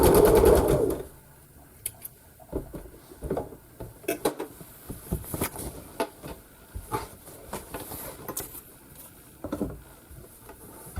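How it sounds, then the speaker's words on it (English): A sewing machine stitches a Christmas quilt block to a sashed strip, giving short irregular bursts of close mechanical chatter and clicks separated by pauses, with a louder rustle at the start. "then I'll sew this to the one that already has"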